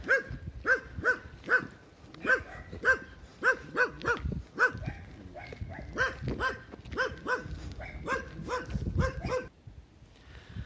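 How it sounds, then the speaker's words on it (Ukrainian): Dogs bark repeatedly at a moderate distance, a rhythmic string of sharp woofs with a few overlapping barks, fading out near the end. "Ось тут собаки лають."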